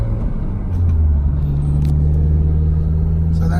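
A car with a louder aftermarket exhaust drives along, its engine giving a steady low droning rumble with a rising tone as it pulls, heard close from inside the cabin, no talking.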